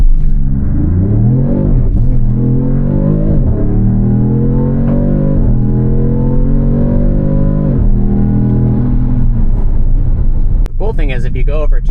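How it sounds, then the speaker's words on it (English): A 2026 Dodge Charger SIXPACK Scat Pack launching on launch control, the engine roaring up through several rising gear pulls with brief dips at each shift, loud and close from inside the cabin. "Let's see how this thing launches."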